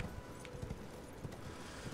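A horse trots in the Elden Ring video game, its hooves making soft, rhythmic clip-clop thuds at a quiet, even pace against faint background ambience.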